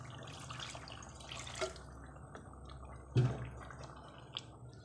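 A little water is added to a pot of khara masala beef handi, heard as faint drips and a brief splashing pour against a low background hum, with no one speaking.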